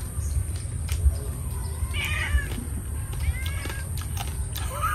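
A cat meows several times, short rising calls heard over steady outdoor background noise in a rural Philippine setting beneath mango trees where crispy chicharon is being eaten.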